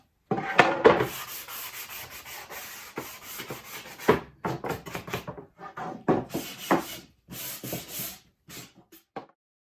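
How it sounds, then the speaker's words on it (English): Painted wooden tray pieces are lightly sanded by hand, producing close, irregular bursts of dry rubbing and scratching strokes separated by short pauses. "I will sand a little bit on the bottom if I did get any paint. I'll just sand it off just like that."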